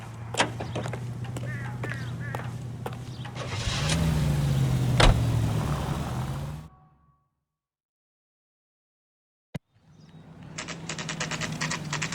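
A car engine runs in the 1947-set video game L.A. Noire, a steady low drone with a rising rev and brief tonal whine, then cutting to near silence with a single click before the engine hum returns.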